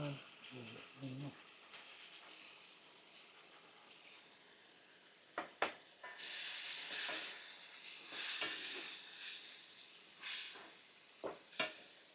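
Onions are dropped into a pan for a Chinese-style sharm dish and stirred as they fry, giving a soft, steady hiss with occasional clanks of the utensil and a voice talking quietly.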